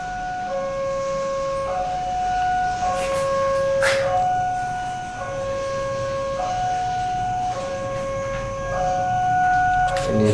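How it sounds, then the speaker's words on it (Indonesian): A nearby train sounds loud, sustained tonal notes that step up and down in pitch, steady and continuous throughout. "Ini suara dari kereta sekitar sini,"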